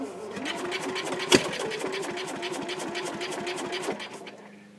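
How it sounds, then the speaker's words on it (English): Sears Suburban garden tractor engine being cranked by its starter, a rapid steady churning rhythm with a sharp knock near the start, close and fairly loud throughout before tapering off at the end. "Now crack it just a little bit, and we'll crank it."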